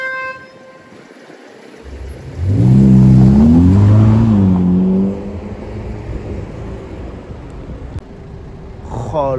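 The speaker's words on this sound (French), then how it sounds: "J'espère qu'on va avoir le droit à une belle accélération." A red supercar on a Paris street accelerates hard, its engine note climbing loudly through a few seconds of revving before dropping back to a low idle and traffic hum.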